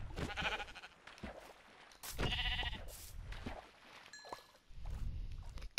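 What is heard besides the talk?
sheep bleating in the video game Minecraft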